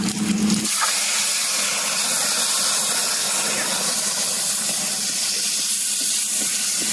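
A paste of ground cumin, coriander and chili hits hot oil with dried chilies and whole cumin, bursting into a loud, steady sizzling hiss that carries on unbroken after an abrupt start.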